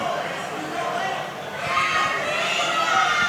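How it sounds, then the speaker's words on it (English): A loud crowd at a live wrestling event roars and chatters continuously during a tornado tag match, a dense swell of noise that grows louder midway, with talk mixed in. "the crowd is so loud I can't even hear myself"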